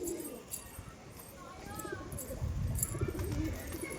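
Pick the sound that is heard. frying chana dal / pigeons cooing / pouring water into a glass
pigeons cooing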